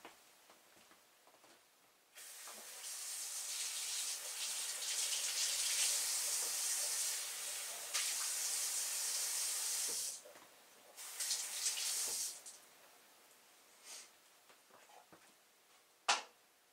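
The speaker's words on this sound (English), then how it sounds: "I'm going to wash this breast off just to make sure I got it's clean" Tap water runs steadily into a kitchen sink while a goose breast is rinsed, a broad continuous hiss with a short break midway and a few small knocks near the end.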